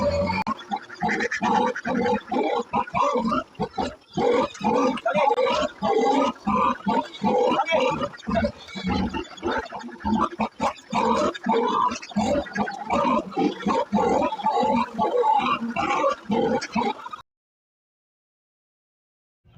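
Pigs grunting steadily and close by as they feed, with rapid, continuous snorts and shuffling that suddenly stop near the end.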